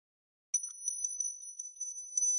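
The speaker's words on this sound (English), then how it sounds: "I'm having my little Liberty bell. Don't worry, the bell is not that loud at all." After a moment of silence, a small replica Liberty Bell rings at a market open with quick repeated bright metallic dings and a sustained high ringing tone, close and fairly soft.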